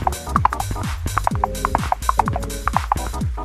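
Horse hooves clip-clop in the Gorilla Tag video game, a quick uneven galloping rhythm of bright knocks repeating over a low rumbling background, fairly close and clear.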